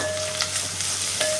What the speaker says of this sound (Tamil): இப்போ ஸ்லோ ஃப்ளேமில் வெங்காயம் வந்து வதங்கணும் நல்லா